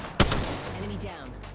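A single sharp, loud gunshot from Apex Legends arena combat cracks out near the start and then rings away, with a short stretch of game noise trailing after it.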